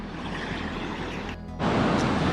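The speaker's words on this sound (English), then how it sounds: "the waves, I think it's starting to drop off, but it's still a bit too big for me to go out for a dip" Ocean surf breaks on the shore along Australia's Great Ocean Road, a continuous close wash of rushing water that dips briefly and then swells louder again.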